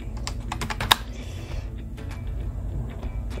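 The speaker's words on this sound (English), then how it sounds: "let's first test the keyboard" Keys clatter on a computer keyboard in a quick, uneven burst of close clicks, then thin out into scattered taps over a steady low hum.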